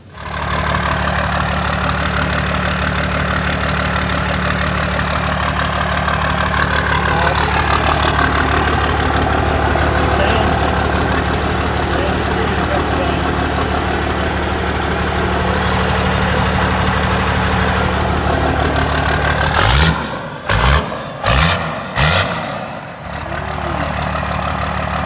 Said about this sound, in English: Truck sounds pretty good. My wife revved it up a couple times there.